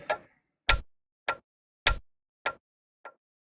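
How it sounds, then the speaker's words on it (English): Processed clock ticks with delay and reverb ring out as six sharp, evenly spaced clicks about half a second apart, each trailing a short echo tail and fading toward the end, heard alone. "A clock ticking sound with some delay and some reverb and some bunch of stuff."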